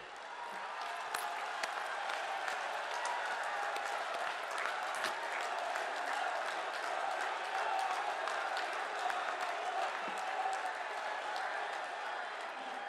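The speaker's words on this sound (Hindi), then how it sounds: "अपने स्थान पर खड़े होकर प्रधानमंत्री जी की जोरदार तालियों के साथ स्वागत करें" Steady, sustained applause from a large crowd at a political rally in Moradabad, Uttar Pradesh, dense and continuous throughout, with crowd noise mixed in and no clear breaks.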